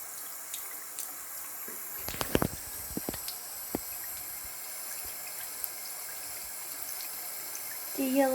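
Water runs steadily from a tap, a low continuous hiss through the whole stretch, with a few brief knocks and clatters partway through as a cat's paws are washed.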